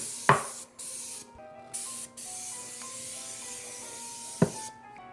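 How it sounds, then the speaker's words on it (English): Cooking spray hisses in a few short bursts, close by, coating the sides of a bowl for dough, with brief pauses between them and a couple of sharp knocks at the start and end. "taking our cooking spray and spraying the sides of the bowl"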